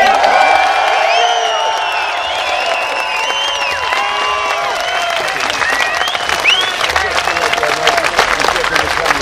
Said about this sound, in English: So I think we're going to give an enormous round of applause for Mr. David Icke.